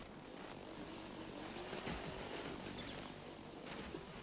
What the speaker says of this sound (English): There goes those helicopters.